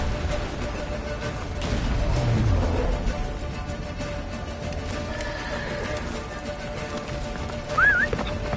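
Hooves of Roach, Geralt's horse, clatter in a steady galloping clip-clop with a brief whinny near the end, moving fast toward a fortress in The Witcher 3, under a wash of game ambience.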